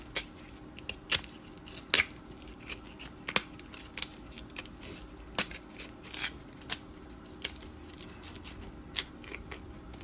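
Sharp scraping and crisp snipping as an ingredient for carimanola is peeled by hand, a series of irregular bursts close up and fairly quiet with no talking.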